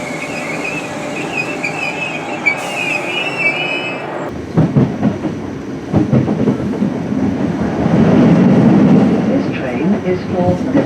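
A Merseyrail train runs from Bromborough Rake toward Green Lane, with steady rumbling and rail noise building under the ride, wheels clattering on the track. A voice speaks over the train, likely an onboard announcement.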